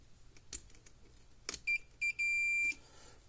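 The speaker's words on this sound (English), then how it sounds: "Flip the switch, should beep." A Tripp Lite DC power supply under repair beeps when switched on: three short electronic tones, the last held longer, after a few clicks of the switch, close and clear against a low hum.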